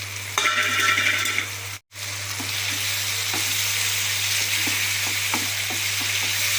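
Prawns sizzle and crackle steadily in hot oil for Chettinad prawn gravy after a brief drop-out, a constant close frying hiss with small pops and stirring.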